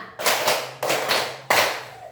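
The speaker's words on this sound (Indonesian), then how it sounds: "Tepuk 1, tepuk 2, tepuk 3, tepuk 4, tepuk 5." A class of schoolchildren clapping in unison, three loud, sharp rhythmic bursts of group claps, each trailing off before the next, close and clear in a classroom.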